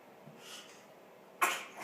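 A single small sneeze from an 11-month-old baby bursts out sharply near the end after soft breathing, close by in a quiet room.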